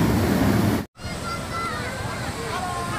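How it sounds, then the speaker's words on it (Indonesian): Fast flash flood current in Sembahe, Berastagi, a loud rushing roar of churning water close by, briefly cut out, with voices talking over it. "arus sangat deras"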